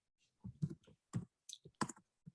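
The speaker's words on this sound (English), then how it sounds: "I'm kind of typing that as I say it." Keyboard keys clatter in short irregular bursts, several quick taps close together, at close range with no voices over them.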